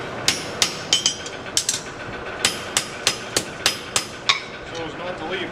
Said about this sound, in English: Using the rounding edge with my hammer